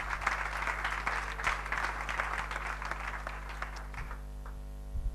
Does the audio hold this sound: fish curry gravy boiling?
no